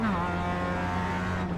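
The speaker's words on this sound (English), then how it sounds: "Car on your left." A race car in a sim racing game at Okayama drones past alongside with a steady engine note and rising harmonics, held loud and close throughout with no break.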